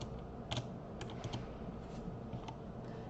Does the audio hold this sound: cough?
no